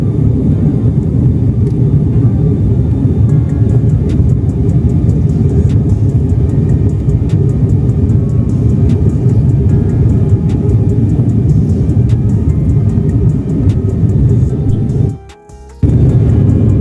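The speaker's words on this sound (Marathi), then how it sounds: "ढग फाडत चाललंय मित्रांनो विमान" Steady, loud low engine rumble droning continuously, like an airliner cabin in flight, with a brief dropout near the end.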